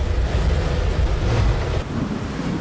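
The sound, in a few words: strong wind on EDSA during typhoon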